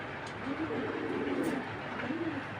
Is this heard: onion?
no